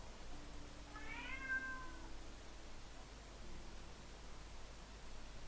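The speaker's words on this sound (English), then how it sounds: "I really don't know how to shut my cat up, but, you know, he's just very social." A pet cat meows a few times close by, a drawn-out rising cry over a quiet hiss.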